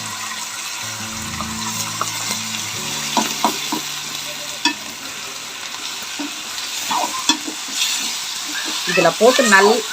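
Chicken stir-frying in a pan with coriander, giving a steady sizzle with scraping stirs and clinks, close by, while someone talks over it.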